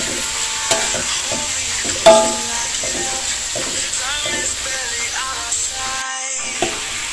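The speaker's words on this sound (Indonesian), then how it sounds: "Kita aduk hingga semuanya tercampur merata dan matang" Food being stirred in a frying pan, a spatula scraping and knocking against the metal with a few sharper clanks over a steady soft sizzle, close and moderately quiet.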